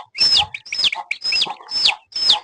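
Native country chickens with a brood of six chicks call nearby: five loud, evenly spaced calls, each with a high falling note and lower clucking undertones, with no talking.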